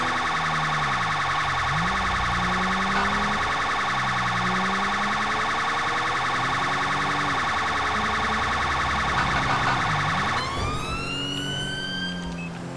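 A steady electronic police siren in the video game GTA V blares continuously over a low engine rumble, then shifts into quick rising sweeps near the end.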